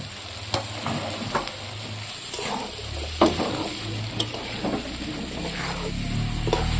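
Jackfruit fries in a pan with spices, sizzling under repeated scraping stirs and sharp clicks of the spoon against the pan, close and continuous with no talk.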